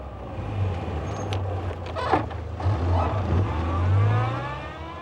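A nearly 30-year-old Morris car drives along English country lanes, its engine a steady low drone that swells and eases with speed, heard close and fairly loud.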